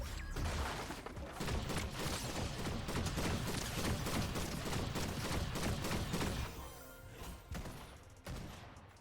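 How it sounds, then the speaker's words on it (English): Bank shot pistol gunfire in the Fortnite video game, a dense, continuous run of rapid shots and impacts for most of the stretch, easing near the end with a few separate loud bursts. "you need to hit opponents using a ricochet from the bank shot pistol"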